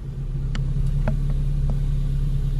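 A BMW E36 M3 idles at low speed while parking, a steady low engine hum running throughout with a few faint clicks and taps over it.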